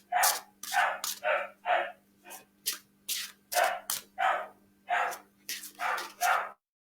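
A dog barks repeatedly indoors, about a dozen sharp, fairly loud barks in an uneven rhythm over a steady low hum, with no voices.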